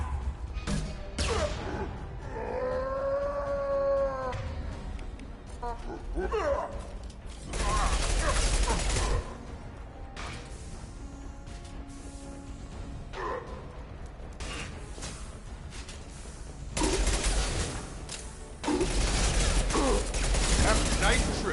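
Heavy gunfire in the video game Mass Effect 2 comes in repeated loud bursts of rapid shots and mechanical clatter, with quieter gaps between volleys.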